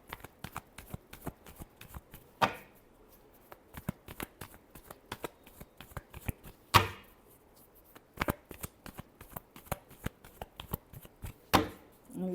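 Tarot cards shuffled by hand in a quiet room, a steady patter of soft card riffles broken by several sharper slaps and bridges, close and fairly faint.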